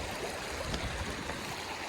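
Marlborough Creek, the outflow of Marlborough Tarn, rushes past large boulders in a steady, close broadband wash of flowing water with no voices.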